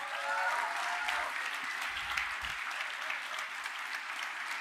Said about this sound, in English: Please give a big round of applause for Arnold Nessis